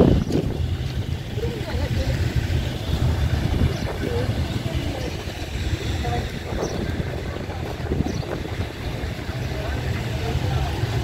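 Strong wind blows across the open desert during a safari outside Dubai, buffeting the microphone in a continuous loud rush with gusty swells throughout.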